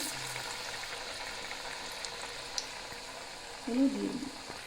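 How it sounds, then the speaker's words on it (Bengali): Green banana koftas fry in hot oil with a steady, soft sizzle throughout, rising briefly to a louder bubbling burst near the end as more go into the pan. "আরও যে কোপ্তাগুলো আছে সেগুলোকে আমি এইভাবে ভেজে নেব।"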